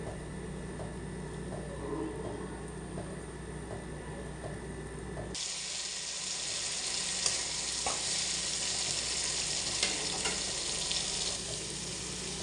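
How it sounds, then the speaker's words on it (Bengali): Rohu fish frying in a pan gives a faint, steady sizzle that turns brighter and louder partway through and then continues evenly, with no speech. "রুই মাছটা ভাজা হচ্ছে।"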